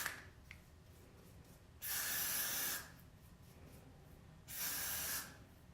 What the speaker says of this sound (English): I'm basically going to go ahead and use the spray and spray all around